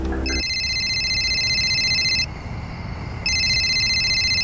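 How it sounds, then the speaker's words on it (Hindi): A mobile phone rings at night in a quiet room, with a steady electronic ringtone in repeated long bursts and a short pause between them, loud and alone. "तेरा फोन बज रहा है"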